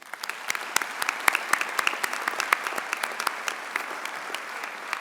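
An audience at a college of pharmacy convocation claps for award recipients: dense, steady applause from a large crowd, sharp individual claps standing out, continuing without a break and with no voices.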